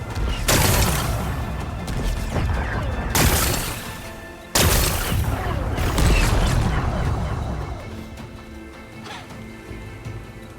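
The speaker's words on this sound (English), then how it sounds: "Gotta blast away some rocks." Explosions blasting away rocks in the Horizon Forbidden West video game: three loud, sharp blasts a few seconds apart, each followed by crashing, rattling debris and rumbling that slowly fades.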